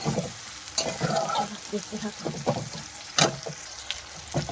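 Onion and chili frying in a pan with a soft, steady sizzle, broken by a few sharp clinks and scrapes of stirring. The sounds are moderately close and fairly quiet.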